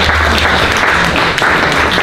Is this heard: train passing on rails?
no